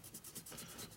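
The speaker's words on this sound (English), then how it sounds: "Now this sealer here, you just kind of rub against it and it comes off." Old sealer rubbed off a 1942 Harley-Davidson WLC 45ci flathead engine part, a brief, faint, close rasping scrub in quick back-and-forth strokes.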